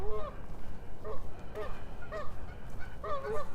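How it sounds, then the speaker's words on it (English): Geese honk near a partly frozen lake in Regina in March, several clear calls in short bursts close by, over a low outdoor background. "The geese are having a chat about conditions."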